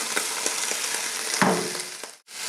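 Onions frying with already-cooked beef in a pan, giving a steady, dense sizzle with small stirring bursts and a brief break near the end.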